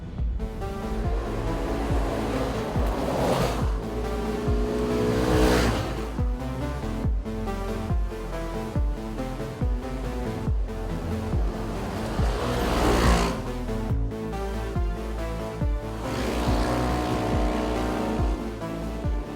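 A 1000cc Segway Villain SX10 sport side-by-side drives past with a loud, steady engine roar that surges and swells in two passes, heavy low rumble throughout with no talking.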